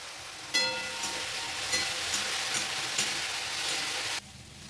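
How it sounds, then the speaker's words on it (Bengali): Eggplant slices frying in hot oil with salt and turmeric, giving a steady dense sizzle with a few clinks of a utensil against the pan before the sound drops off abruptly near the end. "বেগুন ভাজা হয়ে গেছে, আমি বেগুন ভাজাটা নামিয়ে নেব।"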